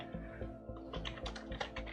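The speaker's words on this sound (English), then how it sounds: "Typing into the search" Someone types on a computer keyboard into a search box in mapping software: a quick, uneven run of close, crisp key clicks over a soft low background tone.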